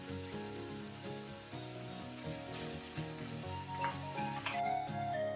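Golden and red beets hit a pan of softened onions and ginger and fry with a steady sizzle, with a few stirring scrapes and clinks near the end.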